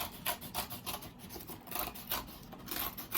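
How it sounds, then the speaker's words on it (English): Cardboard being cut down by hand, a steady series of close, raspy scraping and rubbing strokes repeating at an even rhythm with no talking. "I have some cardboard. I'm gonna cut it down a little bit."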